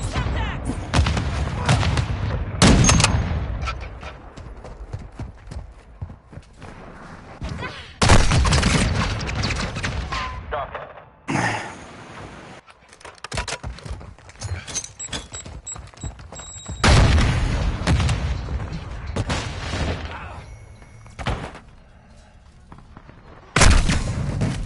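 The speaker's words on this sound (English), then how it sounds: "Throwing grenade!" Call of Duty Modern Warfare 2 firefight: repeated loud booming grenade and gunfire bursts, rapid shots and sharp blasts spaced across a busy battle, with brief quieter gaps between the eruptions.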